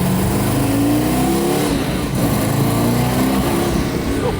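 An Aston Martin Valkyrie Spider hypercar accelerates with a loud, rising engine roar heard from inside the cabin, the pitch climbing steadily and then steadying, with no speech over it.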